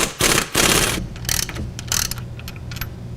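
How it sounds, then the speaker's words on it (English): A socket ratchet clicks on a hub bolt during a Pontiac Montana hub install, loud close bursts of rapid pawl ratcheting with short pauses between strokes. "being able to attack that bolt and get a socket on there"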